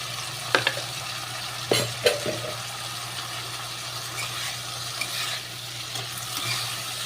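Bitter gourd frying in a pan with turmeric, a low steady sizzle with a few sharp stirring knocks near the start, no voices.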